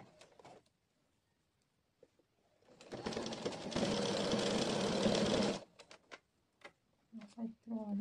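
A sewing machine runs steadily for about three seconds while stitching a dress made from a pattern, with quiet handling noises and a little talk before and after the burst.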